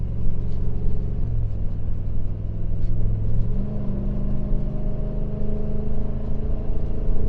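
A Ford 7.3 Godzilla gas V8 pickup working hard while towing a heavy load, heard as a loud, steady engine drone that shifts pitch partway through, as if changing gear, with no talking.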